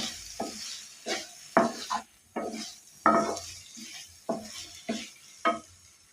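A drumstick and cashew masala curry is stirred in a pan, giving about eight distinct scraping strokes in a steady rhythm with a soft sizzle underneath, close and moderately quiet.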